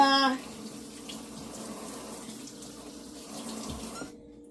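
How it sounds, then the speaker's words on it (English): Hands are rinsed under a running kitchen tap while pork ribs are being prepared. The water gushes steadily and close for about four seconds, then cuts off abruptly. "I'm going to rinse my hands off again."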